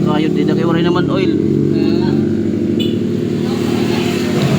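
A Rusi Gala GY6 scooter engine running with no oil, worn inside, idles loud and close with a steady rattling, knocking drone throughout, while someone talks over it at the start.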